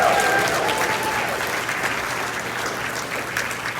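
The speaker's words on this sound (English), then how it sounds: "Can we get a round of applause for Otakon staff, please?" An audience applauds at an Otakon 2024 convention panel, dense indoor clapping from a sizable crowd, strong at first and easing slightly over a few seconds.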